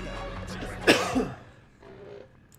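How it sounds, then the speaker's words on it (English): A man playing a video game coughs once, a short harsh burst near the start, followed by a softer throat-clearing sound. "I keep coughing"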